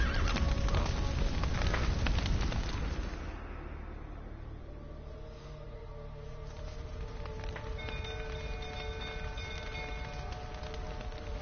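Horses neigh and whinny with hooves clattering in The Witcher 3, loud and busy at first amid a crackle like fire or rain, then easing into a quieter stretch where a drawn-out whinny rises over the background.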